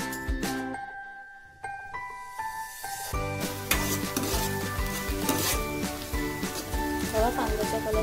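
Finely chopped onions sizzle in hot oil in a home kitchen pan while being stirred for chole masala, a steady frying hiss with scraping and clinking of the spoon against the pan, with background music throughout.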